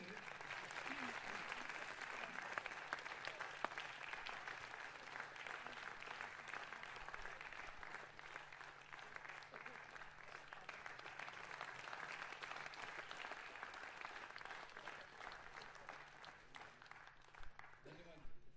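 Sustained, dense applause from a large crowd at a book launch by India's Prime Minister Modi fills the whole stretch, steady and loud throughout with no pauses.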